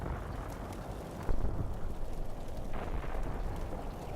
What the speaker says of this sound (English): And we keep shooting.